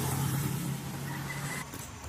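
Cars outside a church at Cawayanon, Manolo Fortich, Bukidnon, a moderately loud engine hum that stays steady and then eases as a vehicle moves off among parked cars.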